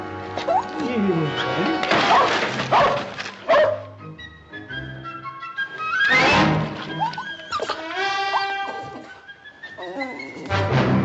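A puppy in a 1959 western TV scene barks and yips in loud bursts while resisting being caught for a bath, with thumps and crashes mixed in and someone talking over the commotion.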